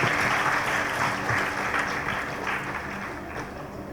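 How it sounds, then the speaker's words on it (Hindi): Students at a college Independence Day cultural program applaud to welcome the chairman, a dense burst of clapping from a large group that gradually fades over four seconds. "जोरदार तालियों से स्वागत कीजिए बच्चों"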